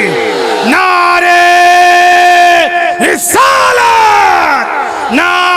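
A large crowd at an Islamic religious gathering roars a unified chanted reply to the Nara-e-Risalat slogan, loud, near and sustained, breaking into two or three swelling waves of massed voices with no other talk.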